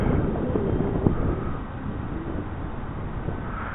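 Gusty wind at an RC model flying field rumbling across the microphone, a continuous loud roar with small surges and no talk.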